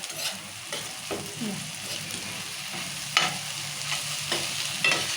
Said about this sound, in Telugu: ఇలా మగ్గించుకోవాలి నూనెలో మంచిగా